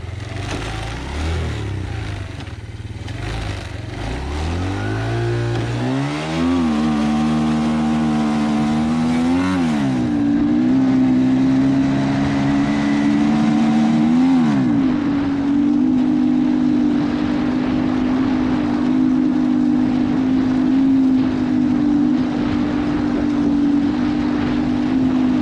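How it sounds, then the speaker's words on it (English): A 110cc three-gear quad engine revs up steadily during a top speed run, its pitch climbing through gear shifts before settling into a loud, sustained high drone, close and continuous with no talking. "110cc. We're going to see how fast it can get."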